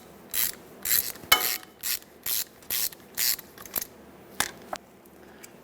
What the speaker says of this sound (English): get yourself some pliers that'll pinch onto the washer and unthread the bolt